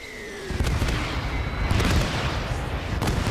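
Explosions in the video game Gates of Hell destroy anti-tank guns in a trench battle, with loud booming blasts, cracking detonations and rumbling debris running continuously through the scene.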